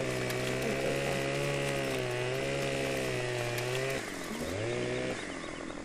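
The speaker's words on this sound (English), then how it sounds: "it's not realistic that you can put your chainsaw in the water and cut the tree through the water" A chainsaw cutting a tree while standing in wetland water, the engine droning loud and close at a steady pitch, then dipping and changing pitch near the end.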